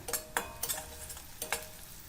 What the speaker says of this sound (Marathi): कापलेल्या दोन हिरव्या मिरच्या परतून घेऊया